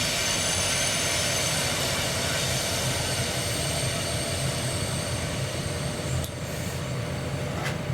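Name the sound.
train passing on nearby rail line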